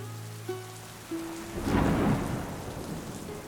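Rain falling at night in Patnitop, with thunder rumbling and swelling to a loud peak mid-way before easing into steady rainfall; a faint tonal hum runs underneath early on, and no one speaks.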